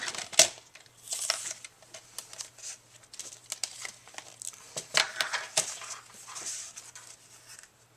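Sheet of double-sided patterned paper being cut to 8 inches for a card, giving a run of soft crinkling, snipping and rustling touches spread across the stretch, close and fairly quiet with no talking.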